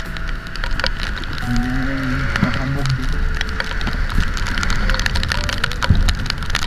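Steady rain falls on a road in Baguio during afternoon traffic, a dense hiss under a brief spoken phrase, with faint engine hum and a few low tonal sounds.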